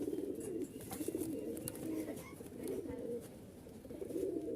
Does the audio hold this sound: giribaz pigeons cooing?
yes